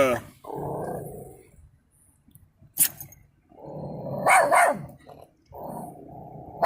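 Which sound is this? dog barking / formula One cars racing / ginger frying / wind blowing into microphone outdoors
dog barking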